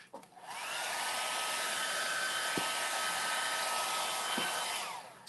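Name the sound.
hairdryer drying Venetian plaster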